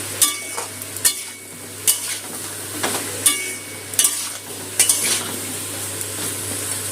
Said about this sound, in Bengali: নুন হলুদটা সবজির সাথে মিশিয়ে নিয়ে সবজিটা ভেজে নেব।